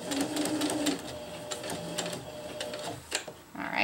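A sewing machine stitches hammock fabric in bursts of rapid mechanical whirring, close and moderately loud, with brief pauses and small clicks between runs.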